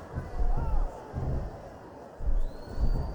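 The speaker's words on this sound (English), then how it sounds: "This capacity crowd is solidly behind their superstar." An arena crowd in a wrestling video game cheers in steady swelling waves at moderate loudness, with a brief rising tone near the end.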